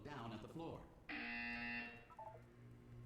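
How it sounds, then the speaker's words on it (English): A harsh electronic buzzer from Portal 2 blares for about a second after a synthetic voice speaks, then a lower tone follows as the voice resumes underneath. "When you hear the buzzer, look down at the floor."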